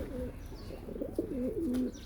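A pigeon coos in soft, low, rolling phrases, fairly close, over a faint outdoor background; a bird chirps briefly near the end.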